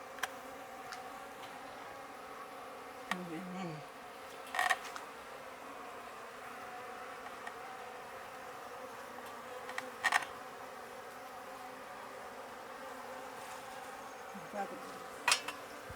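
Honeybees hum faintly and steadily while their hive is handled and comb is slowly cut away, with occasional soft clicks and creaks from the work breaking through the low drone.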